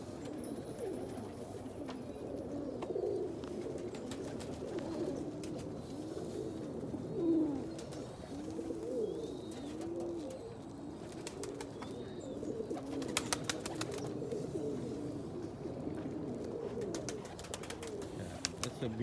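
Pigeons or doves coo softly in the morning, low repeated calls rising and falling across the whole stretch, fairly faint against a quiet outdoor background with occasional sharper sounds near the end.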